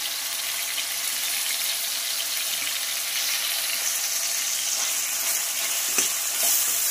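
Sambar vegetables with salt frying in a pan give a loud, steady, close hiss and sizzle that runs unbroken throughout, with a faint clack near the end and no voices.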